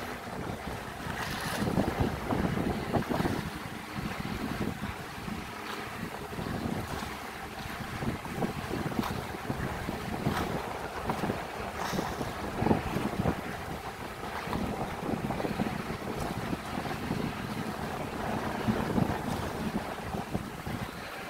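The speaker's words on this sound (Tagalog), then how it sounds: "May nagbabangka doon" Waves slosh and wind buffets the microphone on open water, with the rumble of a boat on the sea throughout.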